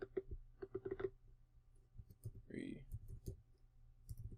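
Typing on a computer keyboard while building a WordPress landing page: quiet, close clicking in short irregular bursts, with a little voice in the background.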